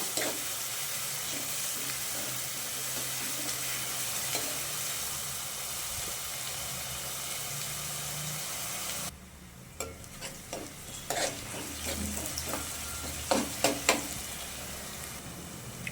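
Onions frying in a pan, a continuous close sizzle with stirring that drops to a softer hiss midway, followed by several sharp spoon scrapes and clatters against the pan, no voices.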